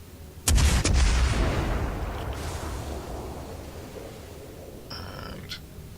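Heavy naval gunfire from World of Warships sea combat aimed at the battleship Scharnhorst: one loud, close broadside boom that rumbles and slowly fades over wind and sea, then a fainter, shorter report near the end.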